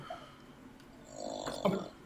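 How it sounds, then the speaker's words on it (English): A dog snores indoors, one faint, rough breathing snore rising near the end of a quiet moment. "He's snoring."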